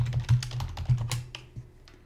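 Typing a password on a computer keyboard: a quick burst of close, irregular key clicks that slows and tapers off near the end, with no talking.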